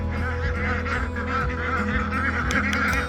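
Ducks being herded around a small homestead give off a steady run of loud, nasal honking calls that overlap with no break, close by and without talk.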